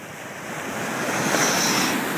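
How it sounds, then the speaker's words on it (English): Big ocean waves break in the surf where a sea turtle lingers, a steady, close broadband roar of rushing water that swells louder midway, mixed with gusty wind noise on the microphone. "It's just a couple of big waves."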